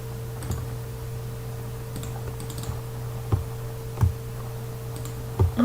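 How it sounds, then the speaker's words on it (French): Computer keyboard keys tapped for a copy shortcut, a handful of soft, sparse clicks over a steady low electrical hum, close by and alone. "Vous pouvez utiliser les raccourcis clavier CTRL-C pour copier"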